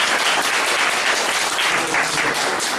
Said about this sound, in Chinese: 那我们再给罗律师跟陈清芳女士一个热烈的掌声